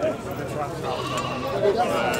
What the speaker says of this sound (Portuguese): Olha aí, pessoal, uma ovelha aí muito boa também, santinês, uma raça muito boa.